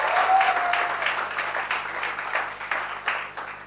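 An audience applauds the organiser at a film promotion event, steady clapping from a crowd with a brief tonal whine near the start, fairly loud and with no talk.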